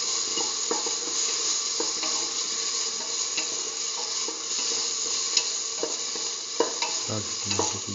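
Tomato pieces and salt are stirred into a frying split mung bean and eggplant mixture, giving a steady close sizzle with scraping spoon strokes throughout and no talking.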